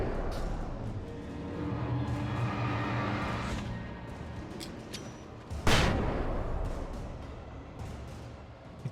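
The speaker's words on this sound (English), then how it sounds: "So I'm gonna have to flashbang this guy?" A flashbang bursts in Alan Wake Remastered: one sharp, bright bang around the middle, loud against a rumbling backdrop of game noise and distant booms.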